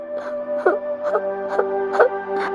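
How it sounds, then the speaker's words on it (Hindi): A woman crying as a sound effect in an animated Hindi story, a close, loud series of wavering wailing sobs repeated in rhythmic pulses roughly every half second. "उन लोगों को किसी औरत के रोने की आवाज आने लगी।"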